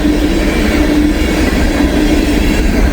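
A freight train with empty auto rack cars rolls steadily past on the rails, its loud, continuous rumble and rail noise holding close and unbroken throughout, with no voices.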